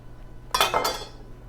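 A knife pushes through a dense Nabal avocado in two short, close bursts of scraping and clicking against the flesh and seed, with no talking over it.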